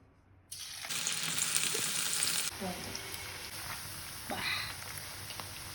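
Cauliflower pieces for gobi fry dropped into hot oil, setting off a sudden loud, bright sizzle that holds for a couple of seconds, then eases into a softer steady bubbling with occasional crackles nearby.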